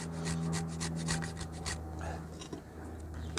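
A Smith's PackPal tool rasps along a piece of wood in quick repeated scraping strokes, close and fairly soft, with a brief pause in the middle.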